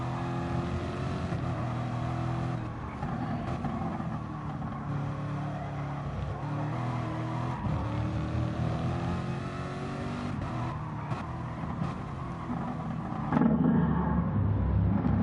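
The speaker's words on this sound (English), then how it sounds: "Let's ride on board now and just listen to the engine" Onboard race car engine at a Fuji endurance race, revving hard through gear changes with rising and falling pitch, loud and close, ending with a rougher burst.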